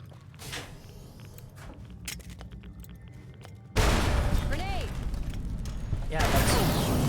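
A grenade blast in the game Fallout: New Vegas erupts suddenly as a loud, broadband burst that cuts off quieter mechanical clicks and footsteps, followed by a sustained rumbling roar with faint whistling tones in the aftermath.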